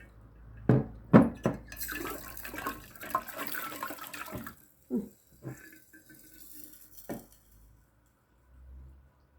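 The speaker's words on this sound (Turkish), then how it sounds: "Suyu Böylecik aktarıyorum üstüne." Liquid poured over red cabbage pickle in a jar, giving soft splashing and trickling bursts that come and go, quiet and close, with short gaps of near silence between pours.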